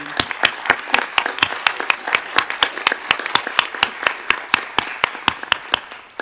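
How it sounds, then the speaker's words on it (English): Applause at a quarterly board meeting, a steady rhythmic pattern of closely miked claps, evenly paced and fairly loud, tapering slightly at the end. "One more round of applause for this team."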